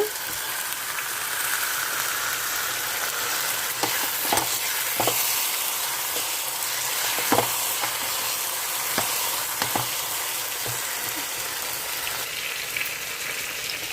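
Chicken tikka biryani gravy fries steadily in a pan, giving a loud, continuous sizzle broken by occasional scrapes and taps as it is stirred.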